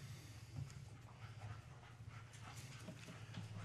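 Excited dogs brought into a county board meeting room pant and whimper softly and continuously against a low indoor hum, faint and fairly close.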